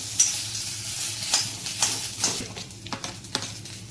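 Garlic fries in a pan for an egg masala curry with green chillies. A soft, steady sizzle sits under intermittent scraping stirs of a utensil against the pan, fairly close and moderately quiet.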